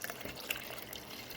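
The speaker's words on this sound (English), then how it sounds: "Now we're gonna pour in filtered water" Filtered water pours steadily into a pitcher holding thinly sliced cucumber for homemade cucumber limeade, a soft continuous splashing with one brief clink.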